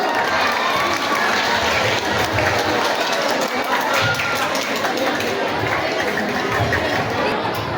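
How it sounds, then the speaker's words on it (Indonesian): Audience applause fills a school hall after an English presentation during a principal's performance assessment at a junior high school, a steady, dense wash of clapping with crowd murmur that holds at full volume throughout. "Beri tepuk tangan yang meriah sekali lagi untuk English presentation."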